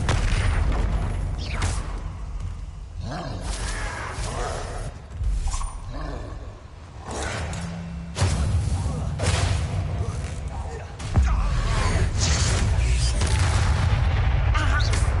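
Bombarda and Confringo explosion spells from the Hogwarts Legacy video game on PlayStation, a rapid run of loud, booming blasts and crashing impacts that keep going with few breaks, mixed with other dense combat noise.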